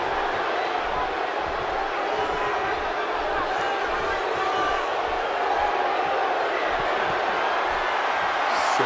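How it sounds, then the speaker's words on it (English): A virtual arena crowd in the wrestling game WWE 2K18 Smackdown, a continuous dense roar of cheering that stays loud and steady throughout, with a faint voice underneath. "he calls to the crowd, and the crowd responds"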